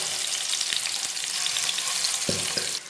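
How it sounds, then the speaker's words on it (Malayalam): Sardines fry in hot oil with curry leaves, giving a loud, close, continuous crackling sizzle with a few soft thumps near the end and no voices. "നമുക്കിതിലേക്ക് മത്തിയും കൂടി ഇട്ട് കൊടുത്ത് ഫ്രൈ ചെയ്തെടുക്കാം."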